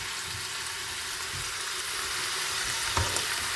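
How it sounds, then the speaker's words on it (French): Meat for a couscous royal sizzles and fries steadily in a preheated pan, a dense continuous hiss with one brief clink of a utensil near the end, with no talking. "là ça rôtit bien."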